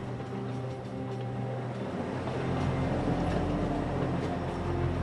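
A train in Taiwan rumbles along steadily with a low droning hum and faint rhythmic clatter, growing slightly louder and rougher partway through.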